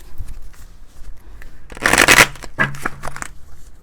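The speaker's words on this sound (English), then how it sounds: "Shuffle again." Tarot cards are shuffled by hand in a quick flurry of papery riffles and slaps, loud and close, preceded by faint handling sounds.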